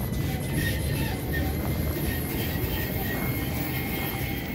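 A tram rolls through downtown Stockholm near frozen water, giving a steady, moderately distant rumble and hiss that holds evenly throughout with no voices.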